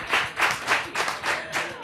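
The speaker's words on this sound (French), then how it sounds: "On applaudit pour Naïssa." Rhythmic bursts of audience applause at a talent-show style event, swelling and fading in several waves over a couple of seconds at moderate loudness, with no clear talk over it.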